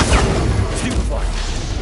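A Stupefy spell cast in Hogwarts Legacy lands as a short, punchy magical burst with a low thump, loud and close, over a dense bed of game sound and a voice.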